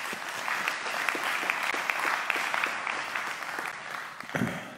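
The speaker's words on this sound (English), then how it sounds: "Let us give a round of applause to a beautiful music ministry this morning." A church congregation at a Sunday service applauds the music ministry, a steady, even wash of clapping from many hands sustained throughout, with no talk over it.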